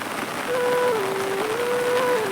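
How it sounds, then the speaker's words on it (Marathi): Steady rain falling outdoors near a village percolation pond, a broad continuous hiss with a faint tonal whine running through it and no talking. "पाऊस आलेला आहे."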